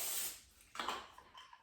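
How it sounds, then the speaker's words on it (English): Non-stick cooking spray hisses into a removed air fryer basket in a short close burst, with a brief rattle of handling around it. "let's take out the air fryer basket and spray it with a non-stick cooking spray"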